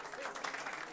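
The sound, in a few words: audience applause for a live blues band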